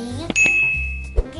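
A bright notification bell chime sounds as a sound effect, a clear ding with a long ringing tone followed by a second soft tap, close and prominent, with no talking.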